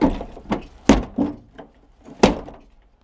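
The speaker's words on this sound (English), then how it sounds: "Apparently the door doesn't shut anymore either." A pickup truck door slammed repeatedly but failing to latch, several hollow metallic thunks and bangs at irregular intervals, close and loud.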